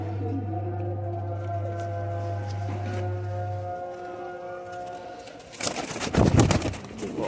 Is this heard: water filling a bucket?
no